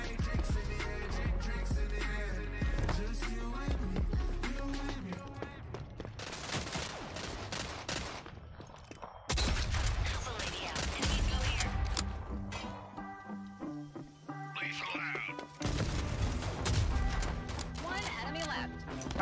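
Gunfire bursts from the video game Rogue Company, rapid clustered shots and loud impacts over game music and effects, with a voice talking at times.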